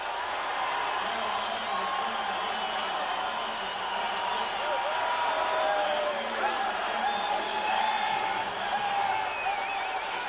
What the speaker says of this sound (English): After a 19-yard return, this crowd is really hopped up.